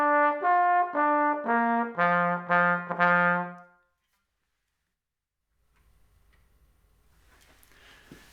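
A bugle plays a short phrase of The Last Post, a handful of clear, separate brass notes stepping up and down for about four seconds, followed by silence and faint room noise.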